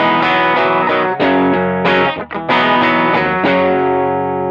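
An electric guitar plays through an NRG Effects GNAWER-308 vintage-style distortion pedal, giving loud, thick, sustained distorted chords struck in a steady rhythm with brief dips between strums and no talking.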